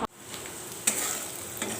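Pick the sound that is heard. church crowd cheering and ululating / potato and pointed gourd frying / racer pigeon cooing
potato and pointed gourd frying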